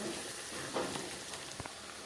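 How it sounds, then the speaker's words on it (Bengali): Garlic and onion frying in a pan while being stirred, giving a steady close sizzle broken by a few sharper scraping stirs, with no talking. "এইভাবে আমি কিছু সময় এটাকে নাড়াচাড়া করে ভাজা করে নেব"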